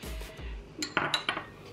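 Ingredients for a pasta salad, onion and sweet corn among them, dropping into a bowl with a few close clinks and knocks of dishes and utensils, louder toward the end.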